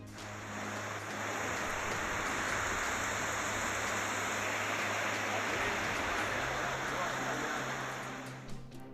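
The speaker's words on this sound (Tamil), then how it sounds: "நீலகிரி மாவட்டம் பந்தலூர் சுற்று வட்டார பகுதிகளில் 1 மணி நேரத்திற்கும் மேலாக கனமழை." Heavy rain pouring over Pandalur in the Nilgiris district, a dense continuous hiss that swells in and tapers at the end, with a low steady hum beneath and no voices.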